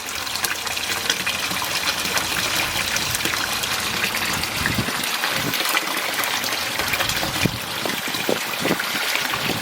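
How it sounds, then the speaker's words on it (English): Water splashes and gushes continuously at close range from a pond filter box, a steady churning spatter with no voices. "Lots of splashing happening."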